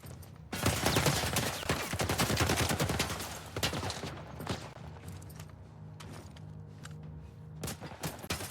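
Dense gunfire bursts from The Last of Us video game, loud volleys and rapid shots packed together early on, then scattered single shots and clatter trailing off with mechanical clicks.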